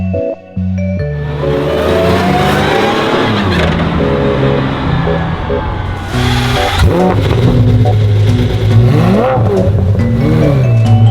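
A car engine revs hard as it pulls up along a street strip, loud and close, with rising and falling throttle blips and a gruff exhaust roar filling the whole stretch.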